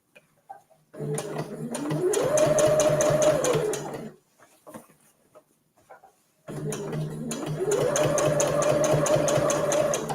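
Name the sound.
sewing machine top stitching fabric for a reusable gift bag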